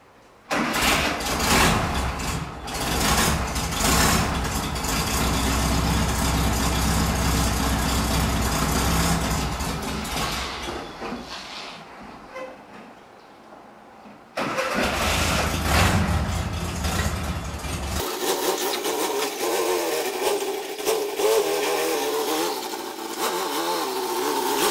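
A Volkswagen Kombi van fitted with a new cross-flow exhaust cranks and starts, then idles and revs in loud surges, dropping off briefly before restarting and settling into a rougher steady idle, close and alone.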